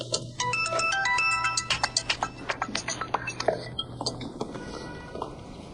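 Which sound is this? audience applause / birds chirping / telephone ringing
telephone ringing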